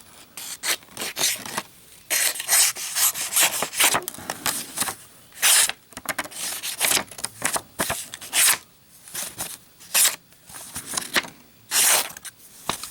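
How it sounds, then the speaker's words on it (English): Slicing cut test with a Ganzo G-10 folding knife with a 440 steel blade, giving repeated raspy rubbing and scraping strokes in irregular bursts, close and fairly loud, with no talking. "Let's do a little cut test here."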